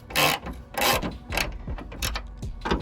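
Hand ratchet working 10 mm bolts loose on a hood strut bracket of a G35, giving several bursts of close, rapid pawl clicking separated by short pauses, with no talk.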